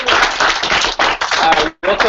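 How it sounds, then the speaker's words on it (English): An audience at a 2014 alliance meeting claps for its speakers, giving dense, loud hand-clapping that pauses briefly twice and then resumes. "Can we get another round of applause for our speakers"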